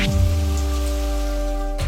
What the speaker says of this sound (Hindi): अचानक बिन मौसम बारिश।